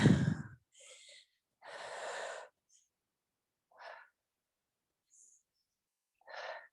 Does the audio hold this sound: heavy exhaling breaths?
yes